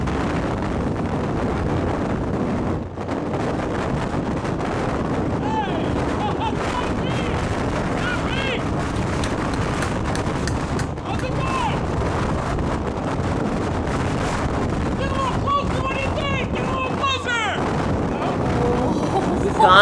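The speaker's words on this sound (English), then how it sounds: "That's how much wind is there." Strong wind roars near a tornado by Wray, Colorado, pounding the microphone in a loud, continuous rush with gusty buffeting; indistinct voices are buried beneath it.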